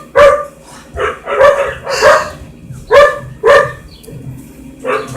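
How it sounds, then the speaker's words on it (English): A dog barks repeatedly in short, loud bursts with brief pauses between them, close by, with no talking. "just please ignore the barking, because that what dogs do"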